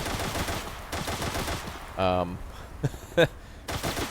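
Soldiers' gunfire in the World War II game Gates of Hell, with scattered rifle and automatic bursts crackling at mid distance, punctuated by a couple of sharper louder shots, under intermittent background battle noise.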